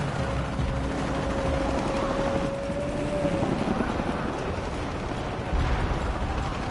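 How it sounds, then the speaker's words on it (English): Helicopters in the video game Shadow of the Tomb Raider, a steady dense rotor drone with mechanical rumble, loud and continuous, with a brief whine in the first half. "Helicopters."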